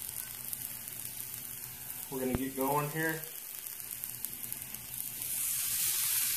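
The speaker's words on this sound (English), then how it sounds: "Listen to that sizzle." Black peppercorn smoked bacon and corn sizzle steadily on a Blackstone griddle, a continuous close hiss with a brief stretch of talk over it. Near the end the frying noise swells louder.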